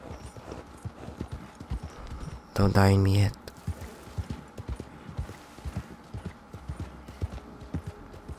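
Rhythmic hoofbeats of a galloping horse in the video game Red Dead Redemption 2 Online, steady and close, with a loud whinny partway through and a voice speaking over it.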